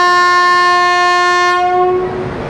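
The Durg–Nautanwa Express sounds a loud, sustained horn close by, one long steady blast that fades as the train moves past with rumbling wheels.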